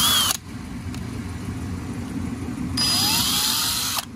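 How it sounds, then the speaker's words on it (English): A power drill with a small bit, about 1/8 inch, bores into a plastic hose barb during a Ford Festiva thermostat replacement: a brief whining burst, then a longer rising whirr after a pause. "we are going to drill a hole right here on the barb"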